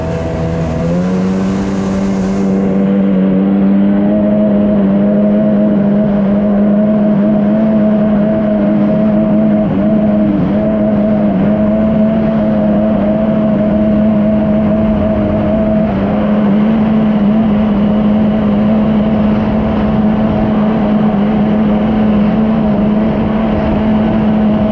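Seadoo XP DI direct-injection personal watercraft engine revving up and holding a steady high drone, loud and close, with a strong sustained harmonic tone and no talk.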